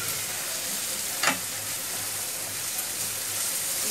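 Turmeric and spices frying in a pan for chicken samosa filling, a steady close hiss and sizzle with one brief stirring scrape, no talk.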